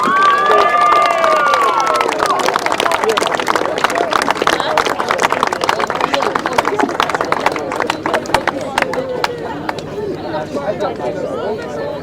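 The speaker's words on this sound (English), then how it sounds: "Big round of applause, please." A crowd at a 500cc sidecar racing final claps and chatters, a dense, busy clatter of applause close by that gradually thins, with voices murmuring throughout.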